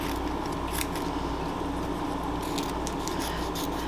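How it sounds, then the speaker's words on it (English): Scissors slice steadily through a sheet of chrome vinyl for tumbler decorating, giving a continuous close rasping cut with small crisp snips and rustles. "I'm going to cut this down the middle"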